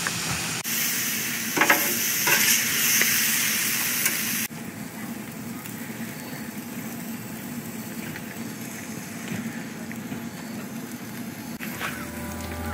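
Pineapple pieces sizzle loudly on a camping griddle for tacos, a steady hiss of frying juice that drops to a softer, continuous sizzle partway through, with no talking.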